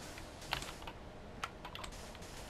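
Keys clatter at a gaming computer keyboard and mouse, sounding as scattered close clicks and taps at an irregular pace over a faint background hum.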